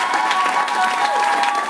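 A church congregation applauding, dense continuous clapping from a crowd with a sustained tone held underneath.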